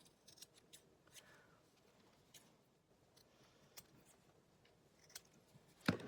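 Scissors trim paper for an altered book, giving a series of quiet, close snips at an uneven pace, with a louder final cut.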